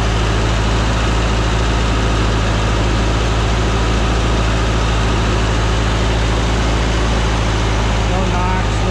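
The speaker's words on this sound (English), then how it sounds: "To listen to the engine." A 1979 Volkswagen Super Beetle Cabriolet idles close by, its engine giving a steady, loud, low rumble with an even continuous drone and no knocks or surges throughout.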